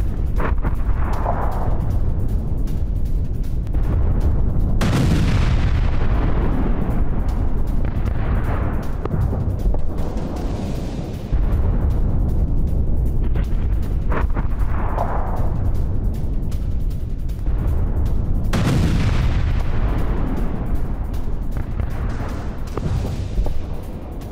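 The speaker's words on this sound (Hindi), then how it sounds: "यूक्रेन ने रूसी फ्रंटलाइन पर यह जोरदार हमला किया है" Artillery strikes on a Russian self-propelled gun and ammunition store at the front line in Ukraine land as a series of heavy, booming blasts every few seconds, loud and rumbling with long rolling tails and no voices.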